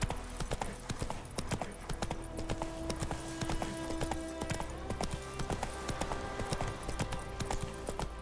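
Galloping hooves of Roach, the horse in The Witcher 3, beat out a fast, even clip-clop rhythm throughout, close and prominent over a low steady game backdrop.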